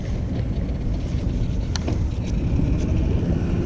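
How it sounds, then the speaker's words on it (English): Boat motor revving behind a dock during magnet fishing, a dense low rumbling drone mixed with wind buffeting the microphone, steady and fairly loud with no speech. "And some guy revving his motor behind me."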